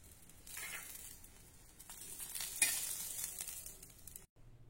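Green chillies roast in oil in a pan over medium heat, a continuous crackling sizzle with stirring scrapes that swells midway and cuts off abruptly near the end, with no voices.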